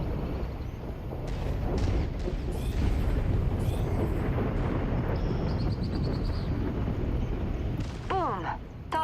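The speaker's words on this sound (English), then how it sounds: "Boom! Target mech destroyed." In the MechWarrior 5: Mercenaries video game, a destroyed mech blows apart in a loud, sustained explosive roar with rumbling debris and crackling, followed by a few sharp electronic bleeps near the end.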